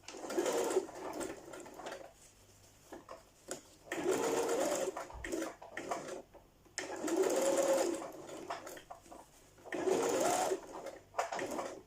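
A sewing machine stitching a convertible wrap dress, running in steady whirring bursts of a couple of seconds each with short pauses between, close and clear, with faint talk at times.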